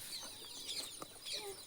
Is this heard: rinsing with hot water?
no